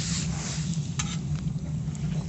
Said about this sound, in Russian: В процессе готовки мяско помешиваем немножко.